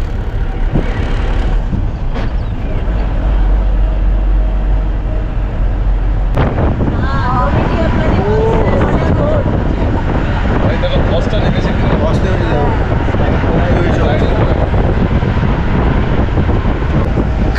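Cold mountain wind at Nathula Pass on the Sikkim India–China border buffets the microphone in a loud, steady roar throughout, with voices talking underneath.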